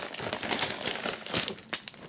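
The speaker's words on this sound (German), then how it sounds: "Erst einmal hier aufmachen, also die Folie" Plastic shrink-wrap film being peeled and torn off a boxed CD set, close and loud crinkling and crackling in irregular bursts with no voices.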